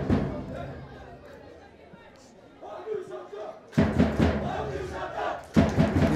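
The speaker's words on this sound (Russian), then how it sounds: "Вот так эмоционально выдохнули болельщики на центральном." Football crowd in a stadium during a Kyrgyz Premier League match, a collective emotional roar and exhale swelling up after a near-miss shot, loud and broad, with a commentator talking over it.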